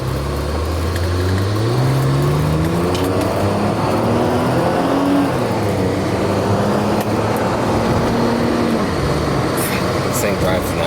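A 1992 Mercedes-Benz 300E W124 on the road, with a steady engine hum and tire rumble that rise and fall through gear changes, loud and close from inside the cabin, with air conditioning blowing.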